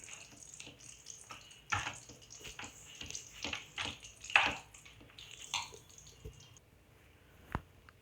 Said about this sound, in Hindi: थोड़ा थोड़ा पानी डालना है हमें, एक साथ पानी नहीं डालना है